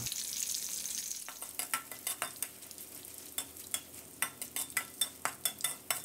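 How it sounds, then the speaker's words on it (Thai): Hot oil sizzles steadily as torn kaffir lime leaves and dried chilies fry in a pan, with a run of sharp, crackling clinks and stirring scrapes, close up and with no voices. "ทอดพริกกับใบมะกรูดให้สุกกรอบเลยนะครับ"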